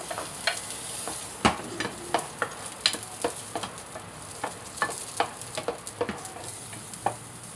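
Five cloves of garlic fry in a little oil, sizzling under a steady run of close, sharp spoon knocks and scrapes against the pan, with no speech.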